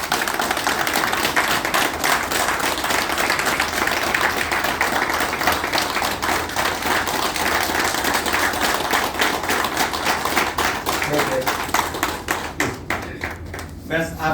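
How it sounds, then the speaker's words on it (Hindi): Audience applause at an indoor interview event, a loud sustained wash of many hands clapping that continues steadily before thinning out near the end, with a voice heard over it. "एंड एक बार जोरदार तालियां"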